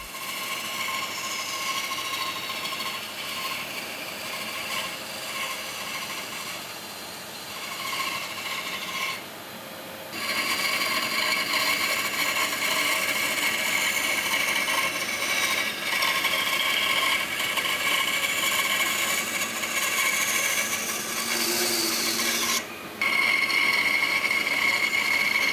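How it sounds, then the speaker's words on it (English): A bandsaw fitted with a thin blade for tight curves cuts shapes out of wood for vases, giving a steady, loud whine that runs throughout with brief dips as the cut pauses, and no voices. "So now it's back over to the bandsaw, I've got a nice thin blade in for doing tight curves"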